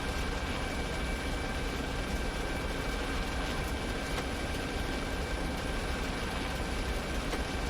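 An ARMA 3 helicopter drones steadily with a constant, loud rotor and engine whine that holds unchanged throughout.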